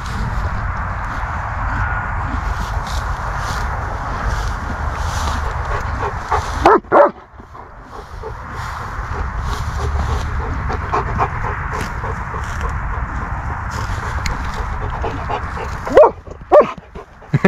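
A wet German Shepherd barking and whimpering near horses, yips and whines running almost continuously at close range with a brief pause partway, then sharper barks near the end.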